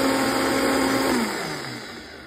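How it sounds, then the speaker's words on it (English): A Vitamix blender whirs at high speed through guajillo chili, loud and steady, then its motor pitch drops and winds down toward the end. "then I'm going to blend the chili and add it in, you know, the guajillo. I'm gonna put it in my Vitamix really quickly."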